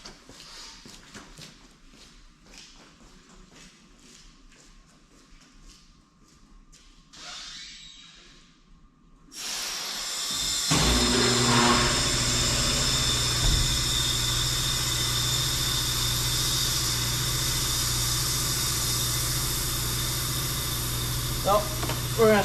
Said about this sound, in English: Oh, I gotta go turn the compressor on